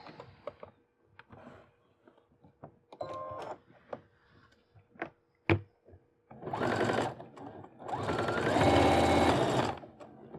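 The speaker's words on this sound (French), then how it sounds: "je vais pouvoir coudre ensemble" A sewing machine stitches the pinned pieces of a hooded scarf together in two sustained loud runs, after a stretch of quieter clicks and handling of fabric, with no talking.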